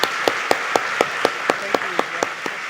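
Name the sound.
audience applause for event organizers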